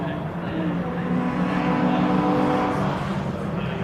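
MG and Metro Cup race cars at Brands Hatch during qualifying, a steady roaring engine drone with shifting pitch as cars run past, mixed with distant crowd and circuit ambience.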